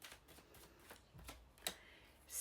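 Tarot cards being shuffled to draw another card, a brief papery riffle and flutter of several quick card strikes up close, with no voices.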